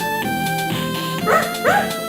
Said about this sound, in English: For my first trick, pulling the dog out of the hat.